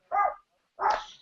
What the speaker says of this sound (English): we have a dog over here that's barking a lot